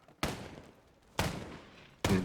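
Three sharp, loud gunshots from a sniper-style rifle in The Division 2 ring out about a second apart, each followed by a short echoing tail in a quiet game scene.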